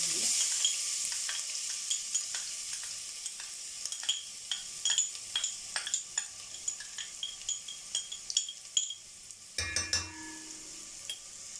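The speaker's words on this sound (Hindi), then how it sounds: "अब इसमें ऐड करेंगे 2 टेबलस्पून जो है वो लहसुन अदरक का पेस्ट" Garlic-ginger paste sizzles in hot oil in a pot for chicken korma, a steady frying hiss broken by frequent close stirring scrapes and clinks, with a brief louder sputter near the end; no talking.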